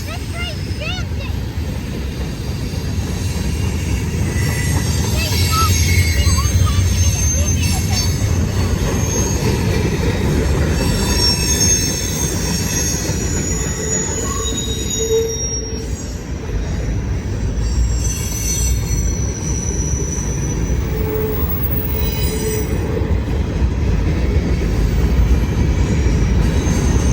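A long CSX freight train with six engines rolls past close by, its wheels squealing in shrill, wavering tones over a heavy steady rumble, while people talk over it.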